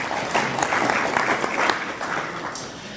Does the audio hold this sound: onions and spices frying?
no